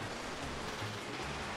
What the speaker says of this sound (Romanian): Oh, ploaia asta e dezastru.